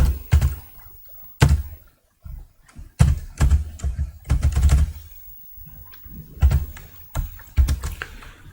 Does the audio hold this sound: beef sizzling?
no